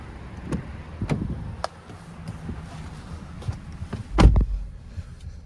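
Someone climbs into the driver's seat of a 2023 Chevrolet Equinox Premier, with soft rustling and seat movement followed by a single loud, close door thump near the end.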